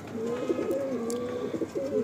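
A top-quality male pigeon in a loft coos steadily and close up, its low throaty rolling calls repeating without pause across the whole stretch, with no voices.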